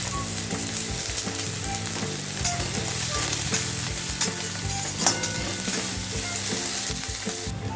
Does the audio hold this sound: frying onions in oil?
yes